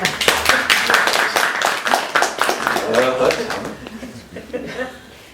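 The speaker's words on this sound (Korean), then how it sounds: "박수 한번 쳐야 되는데." Listeners at a lecture clap in a quick burst of sharp, close hand claps mixed with chuckles and speech. The clapping tapers off into talk.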